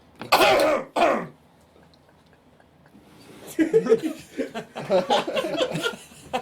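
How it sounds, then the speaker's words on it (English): Two quick, rough throat-clearing sounds come close up, then a pause before people start talking and chuckling. "I was just clearing my throat"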